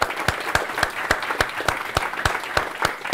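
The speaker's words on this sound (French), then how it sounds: "Est-ce que je pourrais avoir quelques applaudissements" Audience at a French talk on innovation claps in response to a request from the speaker, producing a run of sharp, evenly spaced claps at a moderate pace that sounds like a small group or a single prominent clapper close by.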